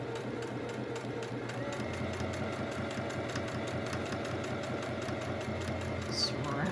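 A sewing machine stitching a Jack Skellington fabric face mask, a rapid steady mechanical whirring with needle ticks, close by, with a voice talking over it.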